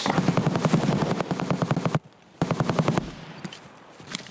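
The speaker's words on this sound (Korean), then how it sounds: "뭐 갈 때마다 총소리가 나요" Rapid automatic gunfire in the video game Escape from Tarkov rattles in fast bursts, pausing briefly before another burst, then fading into scattered distant shots.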